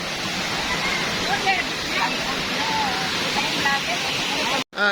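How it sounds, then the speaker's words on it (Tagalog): A strong waterfall roars in a dense, continuous rush close by at an outdoor spot in Real, Quezon, with speech over the noise and a brief cut near the end. "Malakas yung tubig"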